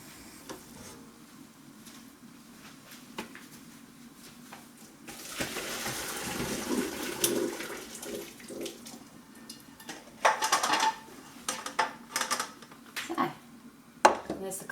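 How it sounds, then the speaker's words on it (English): Cooked cauliflower is drained in a kitchen sink: a loud rush of water pours for a few seconds, followed by clinks and knocks of the pan against the sink, with quiet kitchen sounds before. "I'm going to go drain that cauliflower"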